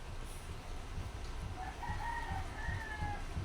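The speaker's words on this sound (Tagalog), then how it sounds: "Uy, may manok." A chicken clucks a few times over a steady low rumble of outdoor background noise, its calls rising and falling in short strings.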